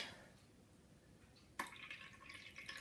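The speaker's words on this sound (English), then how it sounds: "pour some clean water into the pot" Clean water pours into a pot, starting abruptly after a quiet moment as a faint, steady splashing rush that continues to the end.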